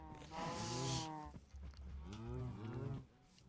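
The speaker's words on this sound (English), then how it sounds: "just why are there so many cows?" Two drawn-out cow moos from a Minecraft SMP server game world, one after the other, soft and fairly quiet with a short pause between them.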